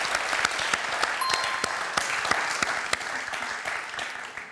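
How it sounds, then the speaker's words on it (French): A studio audience at a French television quiz show applauds a contestant, dense steady clapping with sharp individual claps standing out, sustained for several seconds at moderate level. "Très applaudi, Patrick."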